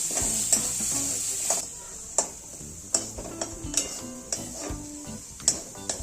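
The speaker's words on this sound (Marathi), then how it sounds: "एकदम छान असा हा मसाला परतून घ्यायचा" Spiced masala for vada pav filling sautéing in oil in a pan, a steady hiss of sizzling broken by sharp scrapes and clinks of a spoon stirring against the metal every second or so.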